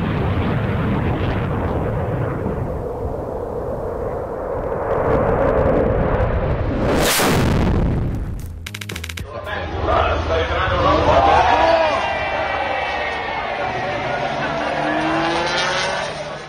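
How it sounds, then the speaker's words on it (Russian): A jet-powered car races at over 800 km/h: a loud roar builds, blasts past in a sharp sweeping whoosh, then fades into rumbling, with a voice narrating throughout. "Это, конечно, не космический корабль, а реактивный автомобиль, но он уже почти летит."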